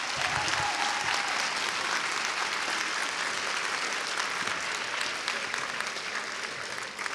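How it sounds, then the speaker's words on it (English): Applause from the audience at a middle school eighth-grade promotion ceremony, a broad steady roar of many people clapping in a large hall, sustained and even throughout with no voices standing out. "Students, please join me in applauding your parents at this time."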